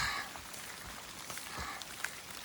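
Steady rain falls over a rocky section of trail, a soft, even patter heard alone with a few sharper drops.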